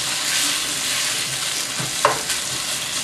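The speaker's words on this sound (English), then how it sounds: "we will make sure the beef is all separated and then we're just gonna saute." Beef sizzles steadily in a hot pan as it is sautéed and separated, a loud continuous fry with a few sharper clinks of a utensil against the pan near the end.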